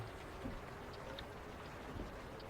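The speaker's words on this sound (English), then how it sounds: "The fact it's raining now," Steady rain in the truck-driving game ATS hisses evenly throughout, a soft continuous wash of falling water with faint scattered drops and no voices.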